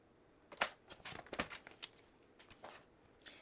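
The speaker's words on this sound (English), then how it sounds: "I need to cut off just a tiny bit. And that's why I love this trimmer." A paper trimmer slices cardstock in a few short, crisp cutting strokes, close up and clear with no talking.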